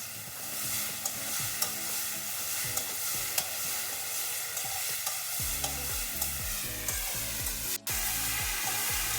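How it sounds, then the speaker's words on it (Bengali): Futu mushrooms frying with turmeric in a pan for a traditional Chhattisgarhi dish, a continuous close sizzle with occasional stirring scrapes and clinks, no voices. "তো এগুলো একটু ভেজে নিই।"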